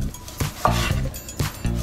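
A knife cuts a tomato into slices on a board, giving a run of close, crisp chopping knocks at an uneven rhythm. No one speaks.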